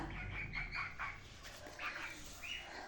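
Newly hatched chicks on a village farm give faint, high-pitched peeping calls in short repeated bursts over a low background hum.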